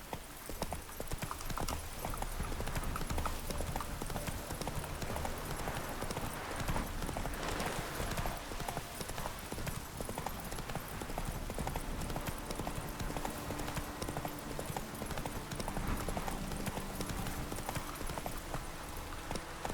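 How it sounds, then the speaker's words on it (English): Steady, rapid hoofbeats of a horse galloping across fields in The Witcher 3: Wild Hunt, a continuous clip-clop rhythm held at moderate level throughout with faint game ambience beneath. "What are you doing in the fields? Come on, Roach."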